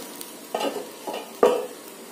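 Food frying in a pan is stirred in a home kitchen, with three or four distinct scraping, sizzling strokes at a close distance over a quiet background.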